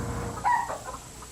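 A single short clucking call from a chicken brooding eagle eggs in Oklahoma rises briefly over a low, steady background hum, fairly faint.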